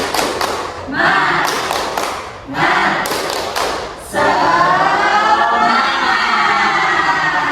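A group of children claps along in the tepuk semangat ice-breaker chant during a classroom group counselling session, bursts of rhythmic clapping and thumps with voices, then a sustained loud stretch of clapping and cheering.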